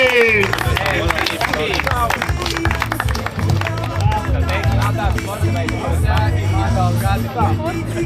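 A crowd claps and cheers for the winner of a men's final in a beer six-pack holding contest, loud and continuous, with chatter and voices mixed through the applause.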